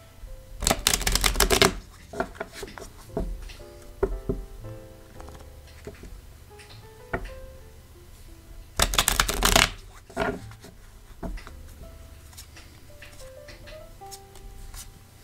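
Tarot cards are shuffled in two loud riffling bursts, then laid out in scattered soft slaps and taps on a surface, close up with little talk.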